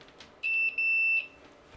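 A multimeter in continuity mode sounds one clear high-pitched electronic beep with a tiny break partway through, lasting under a second against a quiet background.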